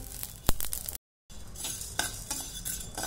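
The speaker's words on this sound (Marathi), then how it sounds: "असे तडतड आवाज येईपर्यंत खरपूस भाजावे" Shahjeera (caraway) seeds dry-roasting in a pan give off soft crackles and ticks while a utensil scrapes and clinks against the metal, close and quiet, with a brief silent break midway.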